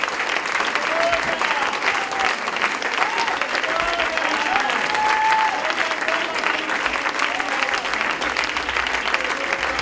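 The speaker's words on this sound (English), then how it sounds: "don't we stand and give them a round of applause?" A large crowd at a Pentecostal church event in Brookfield, Illinois, claps in steady, sustained applause that fills the whole stretch, with some faint voices mixed into it.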